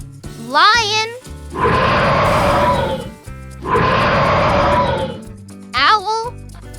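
A lion roars twice in long, loud, rumbling bursts, each lasting nearly two seconds, with a short gap between them. Brief bright, rising vocal calls come before and after the roars.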